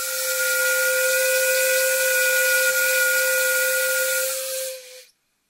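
A 30 mm ring-gap steam whistle on a boiler at about seven to eight bar blows a loud, steady, piercing tone with a hissing edge for about five seconds, then cuts off abruptly.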